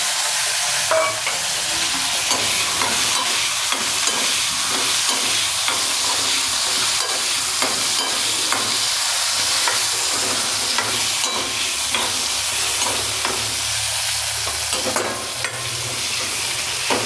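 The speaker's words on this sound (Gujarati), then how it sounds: "થોડુંક આને તેલમાં થવા દઈશું એને આપણે આવી રીતના ફેરવતું જવાનું" Raw mango and gunda pieces sizzle steadily in hot oil as they are stirred in a pan, a continuous close frying hiss with soft scraping from the stirring and no talking.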